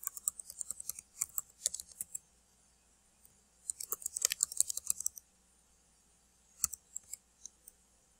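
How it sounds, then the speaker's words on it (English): Quiet, rapid clicking of a computer keyboard comes in bursts of typing separated by short pauses, close and crisp with no talking. "And then I'm just going to type all this information in."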